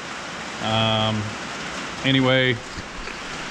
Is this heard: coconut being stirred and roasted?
no